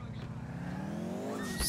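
A Sultan S sports car in GTA IV revs its engine, pitch climbing steadily over under two seconds, with a short tire-squeal burst near the end and a voice speaking faintly over it.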